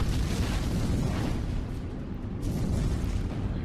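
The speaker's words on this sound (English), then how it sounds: "Unload your main cannons on the battleship." Battleship main cannons firing and shells exploding in a Pacific naval battle game, a dense, continuous roar of overlapping booms and blasts at steady high loudness with no speech.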